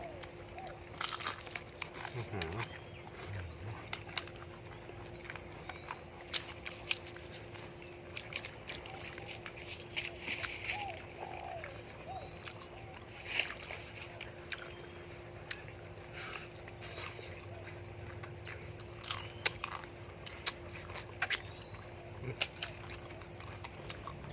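Crisp deep-fried pork intestine and pork tail being bitten and chewed, giving faint, scattered crunches and crackles close up over a quiet background, with a soft murmur of voices now and then.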